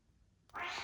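A pet cat's meow rises out of near silence at home, one loud, sustained harmonic call close to the microphone, starting abruptly and holding to the end.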